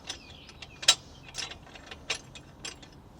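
A ratchet loosening bolts during a drive and axle replacement on an Icebear Fuerza 125 gives scattered, close, crisp clicking bursts spread unevenly over a few seconds against a quiet background, with no talking.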